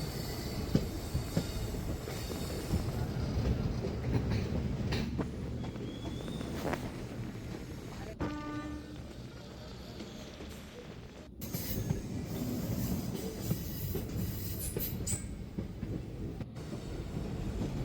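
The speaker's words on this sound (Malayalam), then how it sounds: "അടുത്ത തുരങ്കത്തിലേക്ക് പ്രവേശിക്കുന്നുണ്ട്" A train on the Kollam–Sengottai line rolls steadily with a heavy, close rumble and clatter, brief wheel squeals midway, then the noise swells and echoes louder as it enters a tunnel.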